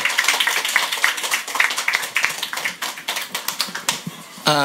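Scattered hand claps from an audience at the IT.Fest ceremony at a computer centre, a dense patter of many claps that thins out before ending, with no talk over it.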